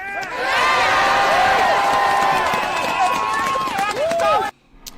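At a Minnesota protest against ICE, a crowd cheers and shouts, with raised voices layered over steady noise for several seconds before it cuts off abruptly near the end.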